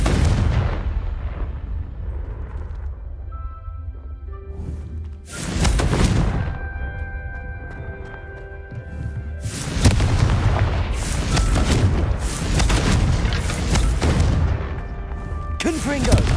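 Fire-spell blasts exploding pumpkins in a wizarding video game: several loud booming bursts, each followed by crackling debris and ringing tones, spaced a few seconds apart, with quieter musical ambience between them.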